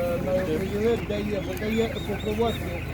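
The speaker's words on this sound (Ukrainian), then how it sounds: "Курчата домашні." Busy chatter of domestic chickens at an animal market in Ukraine, with overlapping clucks and short calls, fairly close, mixed with a steady low hum and some background voices.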